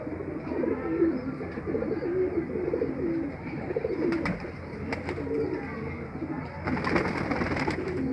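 Pigeons coo in a steady rolling chorus close by, and faint bursts of other noise come in near the end.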